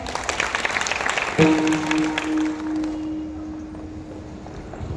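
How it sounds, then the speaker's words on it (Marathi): A kirtan audience at Pandharpur clapping loudly, a burst of applause that fades within about a second and a half, after which a sustained tone and quiet room noise remain. "दादासाठी एकदा जोरदार टाळ्या वाजवा."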